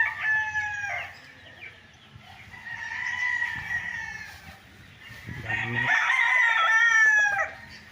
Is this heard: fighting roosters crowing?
yes